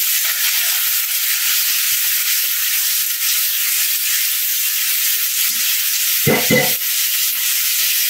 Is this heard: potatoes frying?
yes